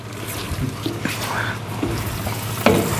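A spoon stirs liver sizzling in a frying pan during home pig-slaughter cooking at a Slovak salaš, with a steady crackling fry, scraping stirs and faint voices in the background.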